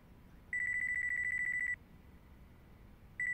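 A mobile phone rings in the video game Yakuza 5, a bright electronic trill sounding in one sustained burst, pausing, then starting again over quiet background hum.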